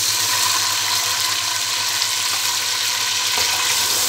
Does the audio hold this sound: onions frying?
yes